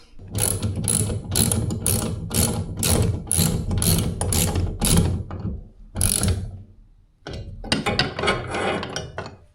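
A ratchet wrench tightens the hardware bolts on a hanging closet barn door, clicking in fast steady bursts of repeated strokes, pausing briefly, then resuming in another quick run of clicks, close and loud.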